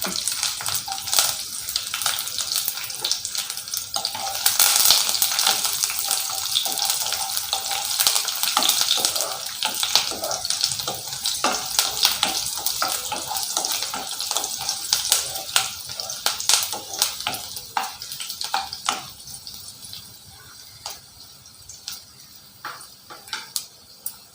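Fennel seeds, curry leaves and a green chili hit hot oil in a pan while cooking chicken chukka, with a loud, continuous crackling sizzle and spitting pops that slowly settle over about twenty seconds.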